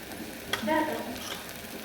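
Black masala spice powder hits hot oil in a pan with a short burst of sizzling and a scrape of stirring, close and moderately loud, fading back to a soft, steady fry.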